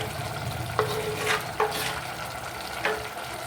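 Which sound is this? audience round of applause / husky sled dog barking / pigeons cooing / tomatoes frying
tomatoes frying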